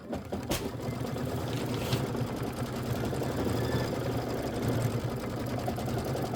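A sewing machine runs steadily as it quilts a green stitch across a Kimberbell Hello Sunshine traditional pieced block, a continuous mechanical hum with rapid needle chatter and a brief knock near the start.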